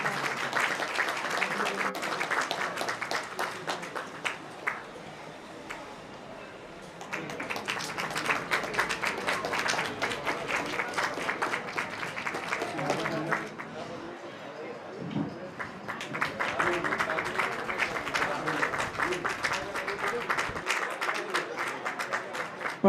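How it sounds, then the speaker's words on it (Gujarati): An audience at a temple yagya and elder-honouring ceremony breaks into sustained clapping, dense applause rising and continuing with a brief lull near the middle, while a voice speaks over it through a sound system. "ખૂબ ખૂબ તાળીઓથી વધાવો."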